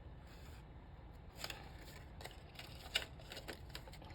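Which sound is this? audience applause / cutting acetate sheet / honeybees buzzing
cutting acetate sheet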